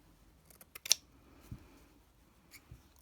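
A few quiet snips of scissors trimming Battenberg lace on scrap-fabric Christmas bunting, short close cuts with small pauses between them in an otherwise hushed room.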